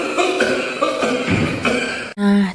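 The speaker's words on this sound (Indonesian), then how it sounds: "itu tadi contoh batuk yang gak bener ya" A deliberately improper cough, uncovered and spraying droplets, demonstrated in a respiratory health skit about pneumonia; one loud, close, harsh cough burst comes near the end after a stretch of voiced, throaty noise.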